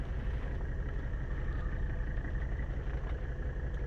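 1982 Mercedes 300CD with the OM 617 five-cylinder diesel running steadily, a continuous low, rough engine rumble at a constant idle-like pace, close and unchanging throughout.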